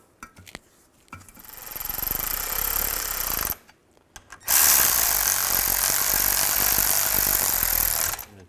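A power tool runs close by in two long, loud bursts with short pauses between them, driving the rear differential cover bolts on a 2000–06 GMC Yukon.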